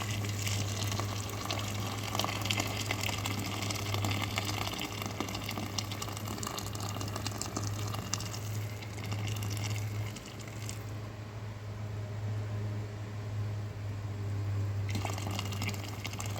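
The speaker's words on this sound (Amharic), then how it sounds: "እንደዚህ አሁን የሚበቃኝን ያህል ውሃ ጨምራለሁ" Water is poured into tomatoes cooking in a pot, a steady continuous gushing rush lasting many seconds, fairly faint, with a constant low hum underneath and no talking.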